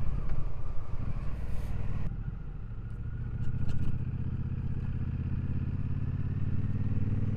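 Triumph Speedmaster 1200 motorcycle engine burbling on the road, a low throbbing rumble with a brief rise in revs, moderately close amid wind rush and no talk.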